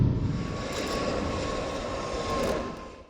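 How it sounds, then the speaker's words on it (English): Airplane landing at Phnom Penh International Airport, a steady, moderately loud engine roar and rushing jet noise that swells slightly then fades at the end. "The plane landed at Phnom Penh International Airport at 4:15 p.m. this afternoon."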